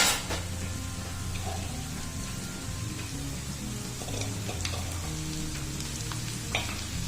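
Garlic-ginger paste frying in hot oil with golden-brown onions and cumin, a steady soft sizzle and crackle running throughout, with a few brief clinks of a spoon against the pan.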